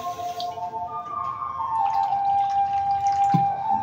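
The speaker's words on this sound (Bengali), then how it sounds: "এই যে 1 বাটি জল দিয়ে দিলাম" Water poured from a bowl into a pot on a gas stove for sugar syrup, a close steady trickle with splashing that runs for several seconds.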